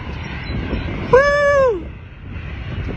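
An Airbus A319 airliner's engine rumble drones steadily in the background while a clear, harmonic falling whine rises briefly over it midway.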